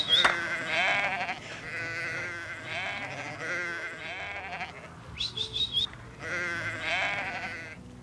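Sheep bleat repeatedly at a sheep station on open plains in Australia's Pilbara, a chorus of overlapping wavering calls at moderate distance, with several brief higher calls near the end.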